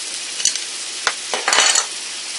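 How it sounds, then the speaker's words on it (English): A spoon stirs black pepper and butter into pork chop pan drippings for a pepper gravy, with several scraping strokes over a constant hissing sizzle, close and fairly loud, no voices. "And then I'm going to find my spoon and stir."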